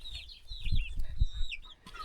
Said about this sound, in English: our baby chickens are in here